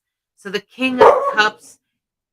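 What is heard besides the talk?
dog barking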